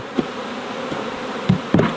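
Honey bees buzzing around an open hive, a continuous low insect hum close by, punctuated by several sharp knocks of wooden hive parts being handled.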